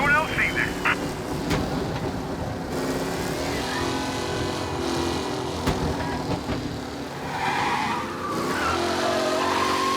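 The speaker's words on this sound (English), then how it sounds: "Officers reporting a race car driving at speed through the city." In Mafia Definitive Edition gameplay, a race car roars through city streets with revving engine and squealing, skidding tires, loud and continuous while a police radio voice talks over it.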